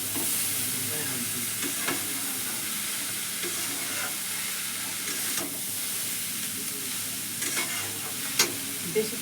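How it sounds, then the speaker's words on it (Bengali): Shredded cabbage stir-fries in a pan with a steady broadband sizzle, broken by scattered clicks and scrapes of stirring, close and fairly quiet with no voices. "এখন এই বাঁধাকপি রান্না করতেছি।"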